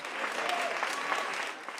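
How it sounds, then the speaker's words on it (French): A crowd applauds hospital department heads walking through a guard of honour at a public hospital, a brief, dense burst of clapping at steady volume that tapers off near the end. "Une haie d'honneur sous les applaudissements pour ces chefs de service à l'hôpital public."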